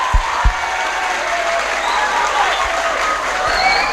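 Crowd applause at an Indonesian religious sermon gathering, a broad steady patter of many hands with a couple of low thumps near the start and faint murmuring voices beneath.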